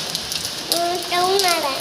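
Heavy rain falls in Balangir, a steady broadband hiss of rain on surfaces throughout, with a voice talking over it partway through.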